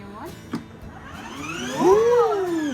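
A Lamborghini electric ride-on toy car plays its electronic start-up sound, a sweeping tonal whine that climbs and swells louder near the end, preceded by a couple of soft clicks.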